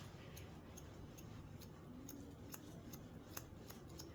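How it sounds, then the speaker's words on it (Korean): Grooming scissors snipping a dog's fur, a steady run of quick, crisp metallic clicks in an irregular rhythm, close but faint over a low room hiss. "가위는 너무 직선으로 들어가지 말고 살짝 기울이면서 이 밑에도 약간 잘라줘도 괜찮아요"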